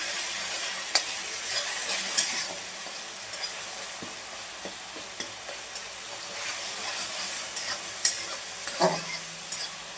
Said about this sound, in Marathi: कांद्याची प्युरी घालायची आपल्याला आणि चांगली भाजून घ्यायची आहे कांद्याची प्युरी.